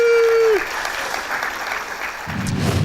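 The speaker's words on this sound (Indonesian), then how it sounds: "tepuk tangan saya lagi untuk mereka." A studio audience on a television talk show applauds in a steady wash of clapping after a tone fades, continuing without talk over it.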